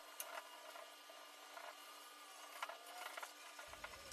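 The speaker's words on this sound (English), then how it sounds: "Right now I'm just scuff sanding the rest of the dresser to get ready for primer" Soft, steady rubbing and scratching of sandpaper scuff sanding a 1950s wooden tallboy dresser, quiet and continuous with small irregular strokes, no voices.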